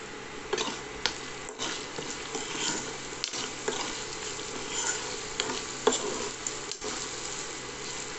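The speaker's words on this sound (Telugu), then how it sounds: "ఉప్పు, మళ్ళీ ఒకసారి కలపండి." Bottle gourd curry stirred in a pan after salt goes in, a soft continuous frying sizzle with occasional light clicks and scrapes of the spoon against the pot, quiet and close, no voices.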